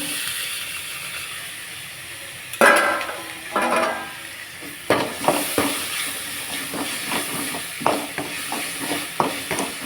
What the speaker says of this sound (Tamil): இப்போ வந்து தக்காளி சேர்த்துடலாம்